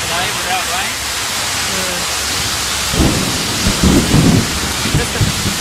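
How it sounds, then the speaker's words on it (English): Thunder rumbles through steady afternoon rain showers, building in low rolling bursts in the second half over a constant hiss of rainfall on the road in Kosovo. "Listen to that thunder."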